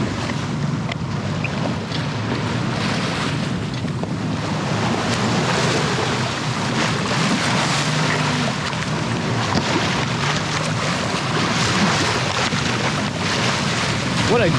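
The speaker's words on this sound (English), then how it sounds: "What a great day to sail at the moment. Seas are fairly calm, only little 2-foot rollers, maybe 3 the most." A sailboat under way on a fairly calm sea with small two- to three-foot rollers, giving a steady, continuous wash of water and wind noise that stays even and close throughout, with no talk.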